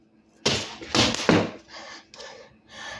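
A quick series of flat, sharp swats from a fly swatter chasing an insect indoors, three loud close hits followed by softer taps and rustling, with no speech.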